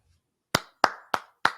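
Four sharp hand claps ring out close and loud in an uneven rhythm after a brief silence, each with a short decay and no voices.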